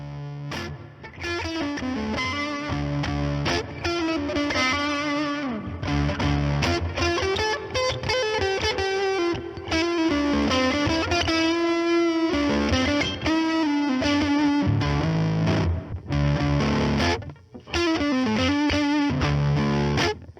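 A fuzzy, distorted electric guitar through an Electro-Harmonix Percolator fuzz pedal with its trim pot at maximum plays a continuous riff with sustained notes and slides, thick and saturated, loud and close throughout.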